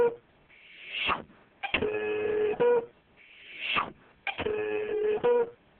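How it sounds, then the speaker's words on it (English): Hobart Quantum scale printing labels, two identical cycles of a rising electronic whine followed by a buzzing, rattling print mechanism, each lasting about a second, clear and close with no talking. "your quantum will automatically print the labels"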